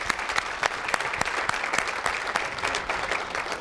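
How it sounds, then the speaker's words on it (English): Steady, dense applause from a school audience honoring a head basketball coach, many hands clapping at close range and sustained throughout with no voices over it. "Let's give him a round of applause for that."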